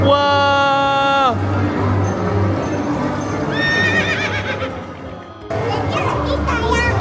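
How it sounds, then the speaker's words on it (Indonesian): A horse at a children's playground horse ride gives two loud, high whinnies, one near the start and another midway, over steady clip-clopping hooves, with children's voices and play noise around it. "Ini kayaknya kuda bayi, Haper."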